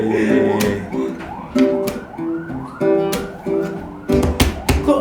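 An ambulance-style siren wails in repeating rising and falling sweeps behind a podcast conversation, fairly loud and steady, with sharp bangs or knocks cutting in near the end.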